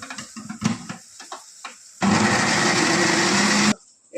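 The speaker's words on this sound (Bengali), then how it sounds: "কাজু টমেটো, একটু ধনিয়া পাতা দিয়ে দেই, এটাও পিষে নিতে হবে।" An electric mixer grinder whirs loudly and steadily for nearly two seconds while grinding cashews, tomato and coriander leaves, then stops abruptly. Softer clatter and brief handling noises come before it.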